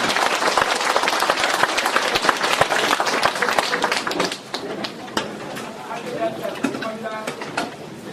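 Vigorous applause from a lecture audience at a philosophy and humanities forum in Daegu welcoming a speaker, dense clapping that thins out after about four seconds while a voice talks over the fading claps.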